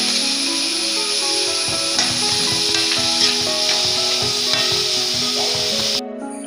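Onion, ginger, green chili and garlic sauté in a pan with salt, giving a steady sizzling hiss over faint scraping of a stirring spoon, close and continuous, then a sudden drop in level near the end.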